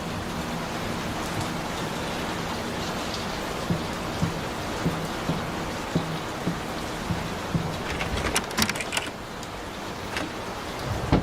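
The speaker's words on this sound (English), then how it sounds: "Will this storm ever run out of rain?" Steady heavy rain pours through a storm in the horror game Layers of Fear, with soft drips and scattered taps over the wash and a low rumble of thunder underneath, growing busier and crackling toward the end.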